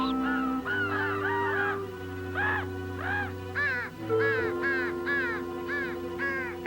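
Several crows caw repeatedly in harsh, rhythmic bursts, loud and fairly near, over a steady low droning background.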